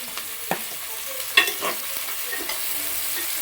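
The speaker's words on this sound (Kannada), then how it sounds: "ಟೊಮೊಟೊ ಹಾಕ್ಬಿಟ್ಟು ಒಂದು ಸ್ವಲ್ಪ ಇದು ಈರುಳ್ಳಿ ಎಣ್ಣೆಲಿ ಫ್ರೈ ಆಗಲಿ ಬಿಡು." Tomato and onion frying in oil for vangibath, a soft low sizzle with a few sharp stirring clinks and scrapes of a spoon in the pan, close and quiet, no talking.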